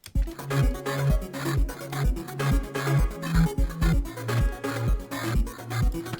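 Driving, tense game music with a steady pounding low beat and busy layered instruments, loud and continuous throughout.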